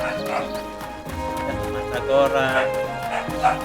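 Dogs barking repeatedly in a home during a stream, sharp yaps scattered under a streamer's ongoing talk and background game music.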